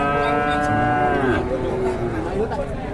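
Cattle moo loudly and close at the Jatirogo livestock market in Indonesia, where young male Pegon calves are sold; one long, harmonic low call runs over a steady crowd background with other animals lowing nearby.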